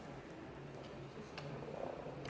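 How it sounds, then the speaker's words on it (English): A robotic companion pet cat purrs with a low, steady, rhythmic rumble, faint and close, with no voices over it. "Ooh, purr."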